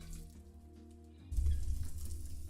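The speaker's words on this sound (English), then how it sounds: "I hear it sizzling as soon as it hit the pan" A sudden sizzle erupts as half an onion hits hot oil in a pan, settling into steady crackling frying over a low hum.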